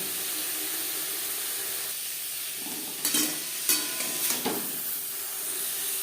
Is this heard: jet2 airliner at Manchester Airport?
no